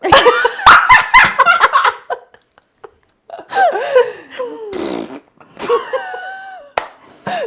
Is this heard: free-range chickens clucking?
no